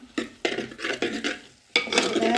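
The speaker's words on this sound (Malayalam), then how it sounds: "ചെറിയ തോതിലൊന്ന് ഇളക്കി കൊടുക്കാം." Kaalan curry gets stirred in a pot, with a spoon scraping and clinking against the vessel in several short, close strokes, a brief pause, then more stirring.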